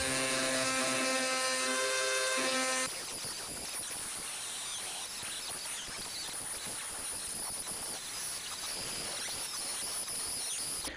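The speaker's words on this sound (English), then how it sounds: "using a sanding bit for the Dremel, I'm going to smooth out the rougher areas" A high-pitched Dremel rotary tool whines steadily, then shifts into continuous grinding against deer antler, loud and close for the whole stretch.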